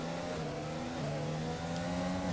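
A race car engine screams at high revs in a racing game around Bahrain, a sustained loud whine with slightly wavering pitch and no gear breaks.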